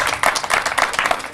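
Crowd clapping in praise at a church-style gathering in Port-Bouët, steady dense applause filling the space throughout, loud and close.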